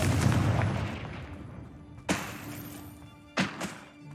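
Confringo blasting curses in Hogwarts Legacy explode with a heavy booming burst that rumbles and fades, followed by two sharper, thudding blasts a second or so apart.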